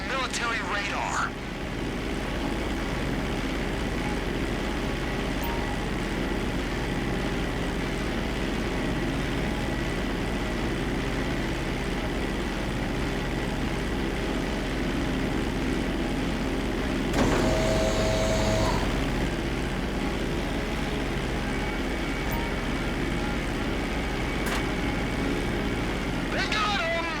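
A plane flies low in Grand Theft Auto V, a steady droning engine roar that holds for the whole stretch with a brief swell partway through, under voices talking.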